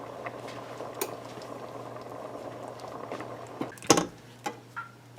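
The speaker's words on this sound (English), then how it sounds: "So this rice was boiling for about 25 minutes" Pot of rice simmering for Guyanese sweet rice on medium-low heat, a soft steady bubbling with faint pops and a few sharper clinks of a utensil or lid near the end.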